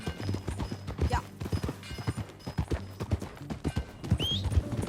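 Horse hooves clip-clop at a steady walking rhythm in Red Dead Redemption 2, close and clear, with a brief whinny and ambient game sounds underneath.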